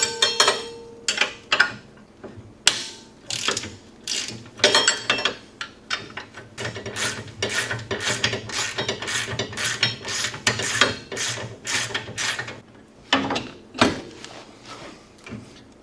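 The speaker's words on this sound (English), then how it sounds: "Next, I want to remove the upper and lower ball joint retaining bolts." A hand ratchet clicks rapidly in repeated bursts while removing the upper and lower ball joint retaining bolts on an A-arm, close and crisp, with short pauses between runs of ratcheting and occasional metallic handling noises.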